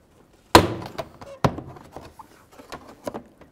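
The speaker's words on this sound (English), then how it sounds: "And just pop the door panel off." Trim clips on a Chrysler 200 front driver's door panel pop loose with a sharp snap, followed by a second crack and a scatter of lighter plastic taps and clicks, close and otherwise quiet.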